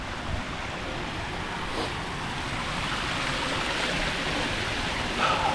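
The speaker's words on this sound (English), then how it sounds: "I'm assuming all that water is going straight down and back up again." Water pours steadily in a fountain at an outdoor historic square, a continuous broadband rush at moderate level with no talk over it.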